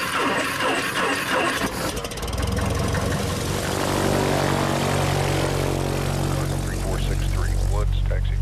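A small Challenge Air propeller airplane taxis toward runway 34, its engine droning steadily and growing louder and lower as it rolls closer, with faint radio-style voices over the noise.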